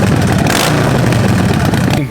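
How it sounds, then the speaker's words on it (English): A custom Harley motorcycle with a flame-spitting exhaust rumbles loudly and steadily at close range, a deep throbbing engine note with a brief rise partway, and a voice partly overlaps it. "I'm the proud owner of this flame-spitting exhaust."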